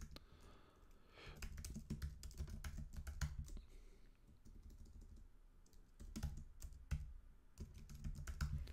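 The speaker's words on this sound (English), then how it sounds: "I'm going to start typing Southern Oregon University." Steady typing on a computer keyboard, with rapid, close clicks of keys coming in bursts and a short lull partway through.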